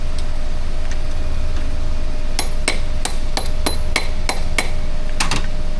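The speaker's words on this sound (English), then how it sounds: "Hammer it on because physics." Hammer blows driving a terminal onto a lead-acid car battery post: after a quiet couple of seconds, about ten sharp, close metallic strikes land in a quick, slightly uneven rhythm, with no talking.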